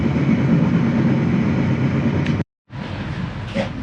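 The Matarmaja passenger train runs at night between Bekasi and Malang with a steady, close rumble of wheels and carriage noise, briefly cutting to silence before the rolling roar resumes.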